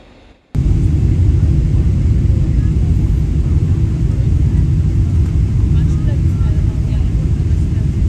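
A passenger airliner taxis to the gate after landing in Dubai, heard from inside the cabin as a loud, steady broadband engine roar and rumble that starts abruptly and holds constant throughout.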